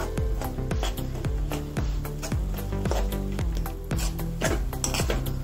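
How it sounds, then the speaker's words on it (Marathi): Gram flour roasting in ghee for besan laddoo, stirred with a spoon that scrapes the pan in a steady rhythm, each stroke a sharp rasp over a soft, constant sizzle, with no talk. "हे भाजून घेऊया आपण तुपात चांगलं बेसन पीठ"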